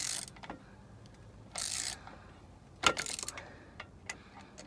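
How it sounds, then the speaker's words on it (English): A rear brake caliper piston on a 2015 Buick Encore being threaded back in, heard as faint scraping bursts and mechanical ratcheting clicks at close range, with no talking. "while I'm doing this and threading this piston back in"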